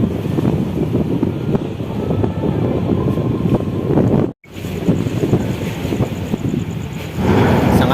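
Strong wind buffeting a microphone at Bakauheni harbour at night, a loud, continuous roaring rush with gusty swells, briefly cutting out midway before resuming, with no voices.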